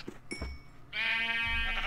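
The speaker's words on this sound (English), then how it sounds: "Oh, the baby sheep. That's so cute." A baby sheep in the Minecraft video game gives a soft, brief bleat, then a louder, sustained wavering bleat follows, clear and close against quiet game background.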